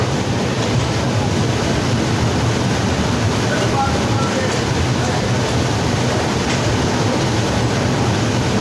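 Passenger train to Prayagraj pulling out of Ahmedabad, heard from on board as a steady, loud rumble and rolling clatter that stays even throughout.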